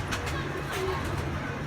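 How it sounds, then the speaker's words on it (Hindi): A pigeon over 15 years old coos softly in a few low, rolling notes, close by, against a steady background hum. "ये को 15 साल से बड़ा कबूतर है जी"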